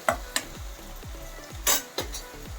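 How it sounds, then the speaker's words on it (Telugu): Onion paste being stirred as it fries in a pan, with a steady sizzle under repeated scraping strokes of a spoon against the pan and a few sharp metallic clinks, close and fairly loud. "ఇప్పుడు ఉల్లిపాయ పేస్ట్ వేసుకొని కలుపుకుందామండి వేయించుకుందాం"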